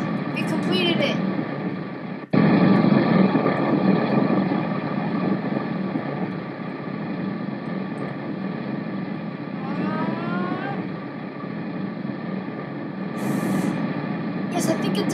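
A super fast rocket plane in the Kerbal Space Program video game produces a continuous loud engine roar with a windy rush that holds steady throughout, with a brief dropout early on.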